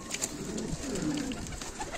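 Adana pigeons coo softly and steadily nearby in a loft, their low throaty murmurs rolling on without pause over faint background noise.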